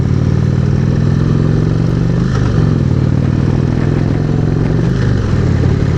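An Indian Springfield motorcycle on a demo ride, its engine droning steadily and loud throughout with low rumbling harmonics and slight shifts in pitch as it cruises, no talking.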